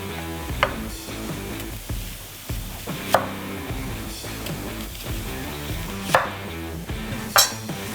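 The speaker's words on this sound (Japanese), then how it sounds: "そしたらここで紫玉ねぎ、これをカットしていこうか" A knife cuts a red onion into rings on a board, with sharp, separate chopping knocks spaced a second or more apart over a low background hum, close and without speech.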